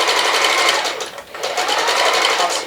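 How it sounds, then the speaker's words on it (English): A sewing machine stitching fabric at speed, its needle chattering in a fast, loud, even buzz, with a short dip in the middle before it picks up again. "Even though the needle is moving fast, it only goes a little bit at a time."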